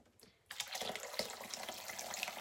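Hot water poured into a slow cooker for chicken stock, starting abruptly after a brief quiet moment and continuing as a steady, close splashing stream with no talk.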